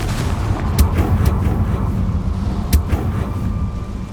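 Bombarda and Confringo spell explosions in the video game Hogwarts Legacy make heavy, booming rumbles with several sharp cracking bursts over a continuous low roar, loud and with no voices.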